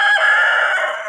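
A pet rooster crows once up close, a loud, sustained, strained call that tapers off at the end, heard alone without talk.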